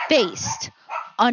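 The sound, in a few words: pregnant dog barking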